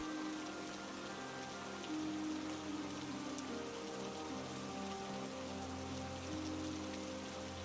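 Steady rain falls on a surface in a village storytelling scene, a dense continuous patter with scattered raindrops, moderately loud and unbroken, with no voices.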